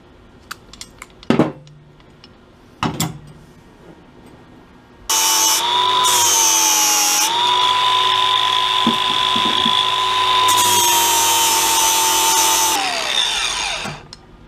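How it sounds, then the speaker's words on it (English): A power sander working on a custom shaved tailgate handle area: a few clanks, then a loud, steady high-pitched whine running about eight seconds before winding down. "So I gotta sand this down, sand that down, and pop these out."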